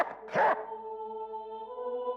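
A dog barks in the video game Reigns, one short synthesized yip followed by a sustained tonal musical chime that rings on steadily to the end.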